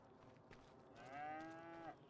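A cow moos once in Farming Simulator 25, a single drawn-out low bellow that swells and then fades, heard alone against quiet farm ambience.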